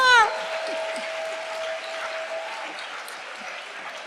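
Church congregation applauding and cheering to acclaim the Lord during a prophetic worship service, a dense burst of clapping and voices that starts loud and holds steady for several seconds, with a sustained tone running underneath.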